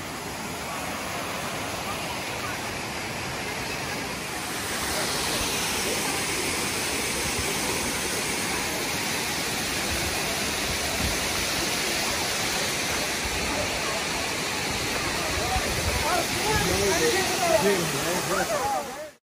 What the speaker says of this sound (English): Waterfall challenge.